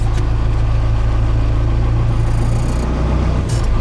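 Rebuilt 4BT Cummins diesel swapped into a Ford F150 runs at a steady, loud idle with a deep low rumble, easing briefly toward the end with a faint mechanical whine above.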